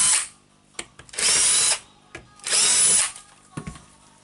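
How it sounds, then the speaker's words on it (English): Cordless driver backing PH2 Phillips screws out of the handle of a Makita HR2300/HR2610 rotary hammer: two loud, close whirring bursts of about half a second each, separated by clicks and handling knocks. "So okay, just unscrewing the screws."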